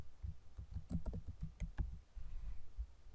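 Keys tapped on a computer keyboard while setting up a GeoGebra checkbox, a quick uneven run of soft clicks up close over quiet room tone, with no talking.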